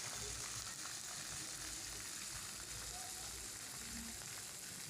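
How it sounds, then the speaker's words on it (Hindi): Onions browned in a pan with ginger-garlic paste fry with a steady, dense sizzle, loud and continuous throughout with no talking over it. "अब इनकी अच्छी तरह भुनाई करेंगे।"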